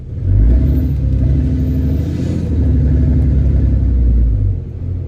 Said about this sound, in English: My truck sounds like a fire-breathing dragon.